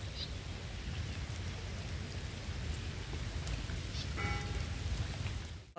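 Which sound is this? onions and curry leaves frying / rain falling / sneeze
rain falling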